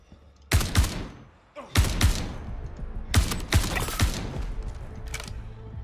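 Bursts of gunfire in the Star Citizen video game during a bounty fight at a Hurston location: three or four loud clusters of rapid shots with sharp cracks and echoing tails between them.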